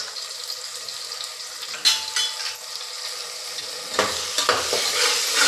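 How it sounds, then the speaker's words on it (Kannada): Garlic paste and turmeric sauté in a hot pan, giving a steady bright sizzle with a few louder bursts as a spoon stirs and scrapes through the mixture, close by. "ಬೆಳ್ಳುಳ್ಳಿ ಪೇಸ್ಟ್ನ ಹಾಕಿ ಅದು ಹಸಿ ವಾಸನೆ ಹೋಗೋವರೆಗೂ ಬಾಡಿಸ್ಕೊತೀನಿ"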